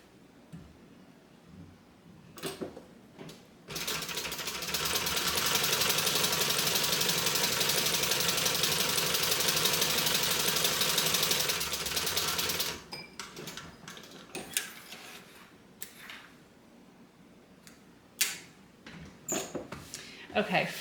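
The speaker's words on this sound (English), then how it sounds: "And we're going to top stitch that." A sewing machine runs steadily for about nine seconds, top stitching a fabric bag, its motor whir loud and close, with short bursts of handling clatter and soft speech before and after the run.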